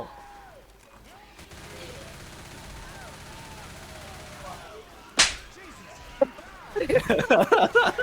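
Rapid gunfire bursts from shooting zombies in a Left 4 Dead co-op game, a sharp crack midway then a fast string of shots near the end, heard under an ongoing game soundscape with people talking.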